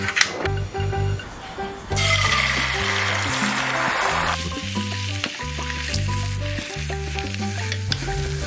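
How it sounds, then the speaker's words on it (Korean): Beaten eggs seasoned with salt sizzle steadily in a frying pan, a continuous crackling hiss under loud background music. "계란 2개, 소금 2꼬집을 넣고 섞은 뒤 프라이팬에 익혀볼게요"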